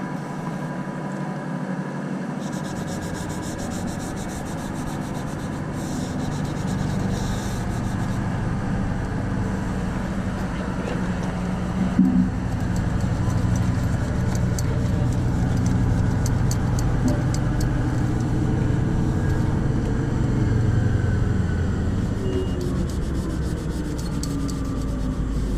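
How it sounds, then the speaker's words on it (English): A Scotch-Brite pad scuffs the surface of a Caterpillar machine's cab door to prepare it for primer. The rubbing is continuous and fairly quiet and lasts throughout, over a low background engine hum. "Now we can do the little Scotch-Brite trick,"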